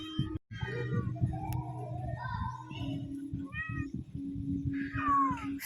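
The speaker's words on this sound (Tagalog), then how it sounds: "Takot yung isang pusa kay Bibi kasi pinagalitan" A cat meows several times, drawn-out and plaintive, ending in a higher wail, close by against a low steady hum.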